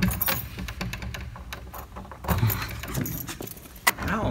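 A ring of keys jangles continuously and close up while someone tries them one after another in a door lock, with metallic clinks, scrapes and a sharper clack near the end, and faint background noise beneath.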